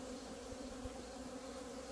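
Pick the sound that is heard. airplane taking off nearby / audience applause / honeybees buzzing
honeybees buzzing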